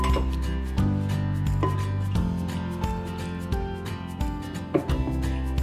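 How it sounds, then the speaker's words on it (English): A wooden spoon stirs wet ingredients in a bowl, making continuous scraping and rubbing with occasional light knocks and clinks against the sides, close by and moderately quiet. "you're going to stir the wet ingredients. Please go ahead and do that with your wooden spoon"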